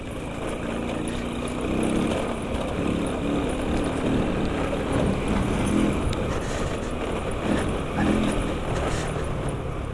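A Sanya X50 or Jaguar 46 motorbike engine runs at night on a sandy riverside track, a steady, loud, rough drone that continues throughout with faint voices beneath it.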